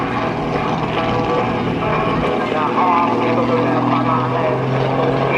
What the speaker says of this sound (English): Stopping the airplane precisely every 45 degrees.